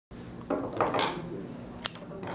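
Scissors snip flower stems short while a flower arrangement is made in a rattan basket, a brief rustle and crunch followed by one sharp metallic click, close and alone.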